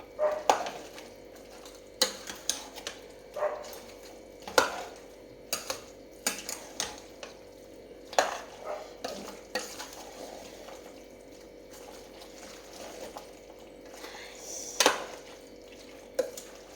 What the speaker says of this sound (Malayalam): ഇളക്കിയിട്ടെല്ലാം യോജിപ്പിച്ചിട്ട് നിങ്ങൾക്ക് കാണിച്ചു തരാം